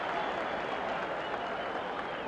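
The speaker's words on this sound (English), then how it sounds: "you can hear that tremendous roar in the background" A big heavyweight boxing crowd roars and applauds steadily for Floyd Patterson's rally against Oscar Bonavena, a dense, continuous wash of cheering filling the arena.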